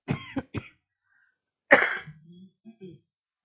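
Short bits of speech, then a single harsh cough followed by a little throat clearing, close and otherwise quiet.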